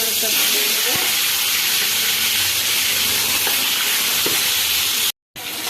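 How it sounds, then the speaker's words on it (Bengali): Rohu fish heads frying in hot oil in a heated pan, a steady, loud, dense sizzle and hiss throughout, with faint clinks and a brief dropout near the end. "এবার আমি তেল দিয়ে দিলাম এবার রুই মাছের মাথাগুলো একে একে"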